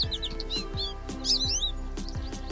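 Bright, quick bird chirps and tweets flutter in short repeated bursts over a steady musical backdrop with soft rhythmic thumps, opening a children's counting song.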